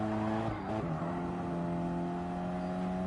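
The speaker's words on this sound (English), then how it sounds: "You can hear the tyres trying to give out." A Ford Focus Cup race car circles Tsukuba Circuit, its engine note shifting briefly and then settling into a steady drone, with the tyres strained near their limit. The sound is heard from onboard and is fairly quiet.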